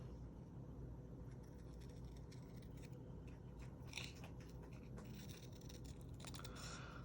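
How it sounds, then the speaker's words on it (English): Scissors trimming the rounded edges of a paper heart cutout, quiet crisp snips scattered over a low steady background hum, faint and close. "I'm going to use my scissors to finish rounding it out"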